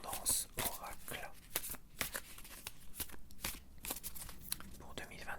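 Oracle cards are shuffled and drawn for a reading, with soft, close riffling and flicking of card stock in quick irregular bursts beneath a quiet, whispery voice.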